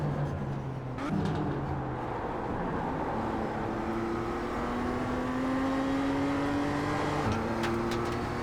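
BMW M2 driving on the Okayama circuit, its engine note climbing steadily under load inside the cabin, with a quick gear change that briefly drops the pitch before it rises again.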